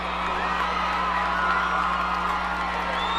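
A high school football crowd of Bears fans cheers and whoops after a touchdown, a steady broad roar of voices from the stands with no break, heard from a distance.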